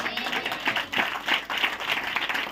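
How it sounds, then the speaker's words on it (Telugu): Congregation clapping at a church New Year service, steady rhythmic hand claps from a crowd, moderately loud and continuous throughout. "ధన్యులందరూ చప్పట్లు కొట్టాలి"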